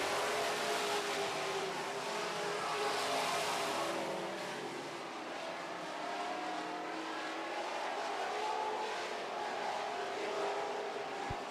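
Super stock race cars roar around the track during a heat, a dense, continuous engine drone from a pack of cars that swells and fades slightly as they pass, heard from a distance.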